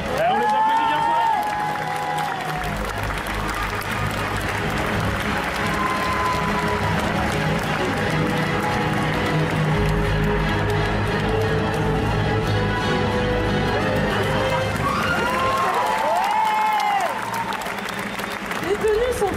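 Loud, sustained applause and cheering from a convention audience for Viking-costumed cosplay contestants at a festival cosplay contest, dense and continuous with crowd voices mixed in, briefly dipping near the end before swelling again.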